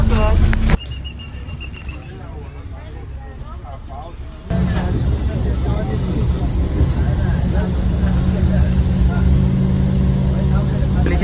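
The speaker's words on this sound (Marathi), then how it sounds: "आपली गाडी आता हलतली मार्गस्थ होतली" A bus pulls away and drives along a road, its engine rising into a steady loud rumble after a short quieter stretch, with continuous road noise and voices talking over it.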